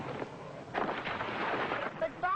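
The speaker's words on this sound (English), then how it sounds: "Cleolanta, thinking only about her own people, bombarded Bezita, hoping to spin it out of the way of Ophiuchus" Bombardment explosions in a 1954 Rocky Jones, Space Ranger radio serial: rumbling blasts and booms roll in close succession at moderate loudness, and a voice starts at the very end.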